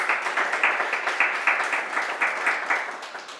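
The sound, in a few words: audience applause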